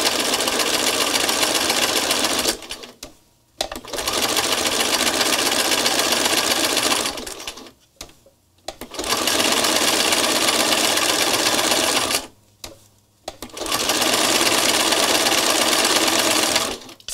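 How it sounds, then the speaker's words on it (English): Sewing machine stitching over thread in a flower craft project, running in four long steady bursts of whirring, each lasting several seconds with brief quiet pauses between, close and loud with no voices. "I'm going to stitch it again to give it more coverage"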